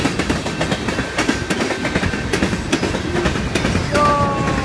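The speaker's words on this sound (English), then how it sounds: "these freight trains know how it is!" CSX freight train passing close on rails of the Halton Subdivision, loud continuous rumble with rhythmic clickety-clack of wheels over joints and a brief wheel squeal near the end.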